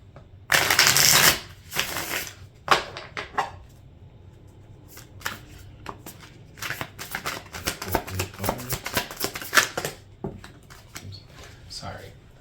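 Tarot cards shuffled by hand, a loud riffling burst near the start followed by softer irregular rustles, flicks and taps of cards handled close by.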